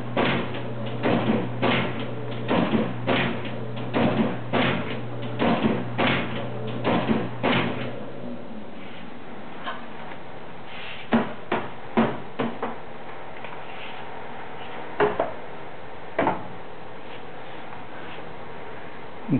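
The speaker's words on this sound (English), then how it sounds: "Machine runs no problem. It'll punch a gazillion sheets an hour." A GBC AP2 Ultra automatic hole punch machine runs: a fast, regular series of sharp mechanical thumps over a low motor hum for about eight seconds, then sparser single clacks spaced out as it winds down, close and fairly loud.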